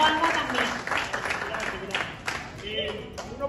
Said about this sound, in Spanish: un aplauso para que nos vean